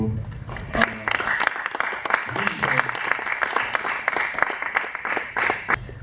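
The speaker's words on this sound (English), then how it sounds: "So let's give him a warm round of applause to." A school audience at an alumni sharing session gives a warm round of applause: continuous, many-handed clapping with crisp individual claps standing out, loud and sustained from start to end.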